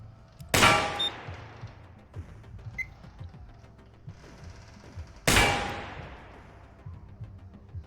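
Two loud, sharp gunshot blasts from a turret in the video game Receiver 2, each ringing out with a metallic tail, spaced several seconds apart over a low background rumble.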